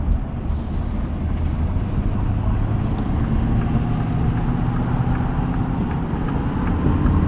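A 2026 Ford F-450 Super Duty Platinum dually with the 6.7L Powerstroke diesel drives at speed, heard from inside as a steady low engine drone with road rumble and a little wind noise, no voices.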